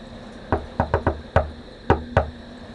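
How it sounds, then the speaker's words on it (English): Special knock on a cellar door in the Nocturne video game: seven sharp, close raps in an irregular coded pattern, grouped with uneven pauses between them, against a faint background hum. "They're hiding in the cellar and won't open the door unless they hear our special knock"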